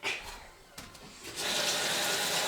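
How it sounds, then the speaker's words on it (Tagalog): Tap water runs into a cooking pan in a home kitchen, starting as a faint trickle and swelling into a steady, loud gush that fills the last second of the clip. "So, lagyan natin to ng tubig."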